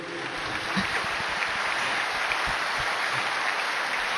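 An audience claps at the Yuva Bharat yoga camp at Patanjali Yogpeeth, producing a dense, continuous wash of many hands clapping at steady volume throughout.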